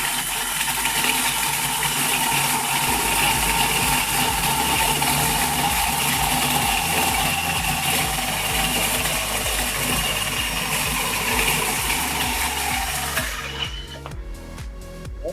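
A cheap mini chainsaw attachment bought from Temu cuts through a piece of timber, giving a loud, steady buzzing whine throughout that cuts off abruptly near the end.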